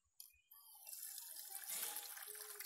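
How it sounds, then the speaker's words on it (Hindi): Rice being rinsed in water for an Ayurvedic preparation, with a steady close splashing and swishing of water that starts after a couple of soft knocks and continues without talk. "ये चावल को हम दो बार धोने वाले हैं।"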